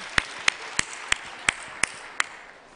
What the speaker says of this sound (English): Give yourselves a big round of applause and take a seat.